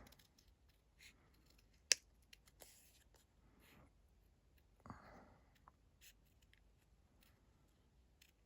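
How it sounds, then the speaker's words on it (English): Scissors doing fussy cutting around a paper craft shape: sparse, quiet snips and paper rustles with a few sharper clicks, recorded close in a hushed room. "So I'm just fussy cutting."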